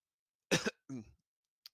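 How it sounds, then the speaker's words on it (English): A single sharp cough followed by a short throat-clearing grunt, then a tiny click, close and isolated against silence. "maybe that cough was on purpose"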